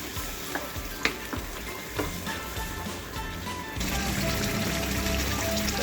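Palak gosht, spinach with beef and ground masala, stirred in a pot, with scraping spoon knocks over a steady sizzle that grows louder and denser partway through.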